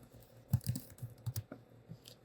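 A short burst of keystrokes on a computer keyboard, close and soft, the clicks arriving in quick uneven clusters followed by a pause.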